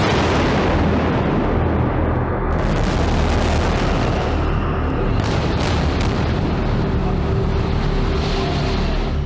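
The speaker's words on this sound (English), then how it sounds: "The explosions in Gaza and southern Israel echo through history." Loud, dense booming explosions in Gaza and southern Israel roll and rumble one after another, dominating the whole stretch with deep continuous noise.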